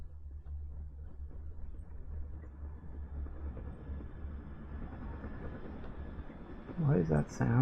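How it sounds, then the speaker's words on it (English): A train rumbles in the horror video game My Beautiful Paper Smile, a steady low rolling drone with faint clatter that persists throughout, with a voice talking briefly near the end. "It sounds like a train."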